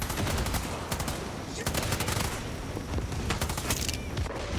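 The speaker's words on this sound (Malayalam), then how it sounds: "എന്റെ മൊന്നെ ഇവിടെ മൊത്തം വെടിവെപ്പ്" Dense automatic gunfire and bursts fill a Far Cry 6 ship battle, with rapid overlapping shots and occasional booms running continuously and loud throughout.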